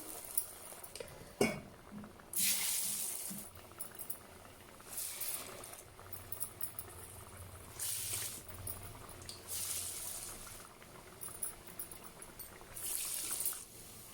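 Bean (alasanda) vadas dropped into hot oil to fry, with soft bubbling and sputtering plus occasional clinks of utensils, fairly quiet, and bursts of brighter fizzing as each piece goes in.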